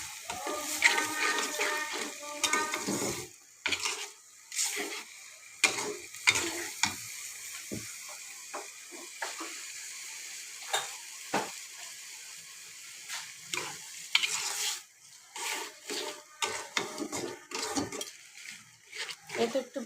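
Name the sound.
turmeric being fried with dal in a pan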